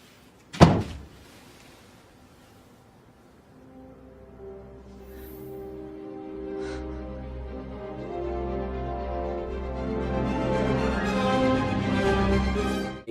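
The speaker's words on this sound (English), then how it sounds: "Hey, can you shut the door?" Door being shut in a film scene, a single loud thud near the start, followed by quiet and then a swelling orchestral music bed.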